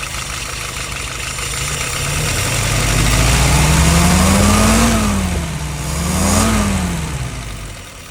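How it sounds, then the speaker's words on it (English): A close YS 950S engine starts and runs steadily, its pitch rising and falling twice as it revs up and settles back, loud and rumbling throughout. "Let's go ahead and fire it up."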